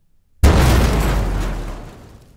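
A tank explosion effect from the Tanks! video game: one sudden loud boom that hits at full force, then a broad rumbling decay fading over about two seconds, alone without voices.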